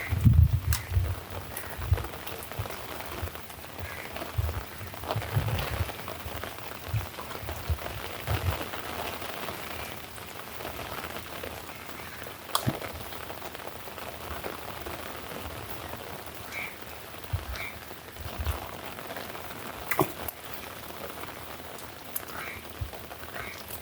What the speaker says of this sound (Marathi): बारीक बारीक आता लागता पावसा